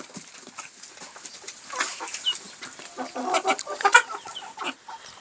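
Broiler chickens clucking on a farm: a busy, overlapping run of short clucks and squawks from several birds, getting louder and denser toward the end, with no talking.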